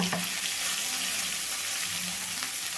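Cooked moong dal sizzling as it fries in a pan for spicy kudumulu, a steady dense crackle and hiss from close by, with faint stirring scrapes underneath.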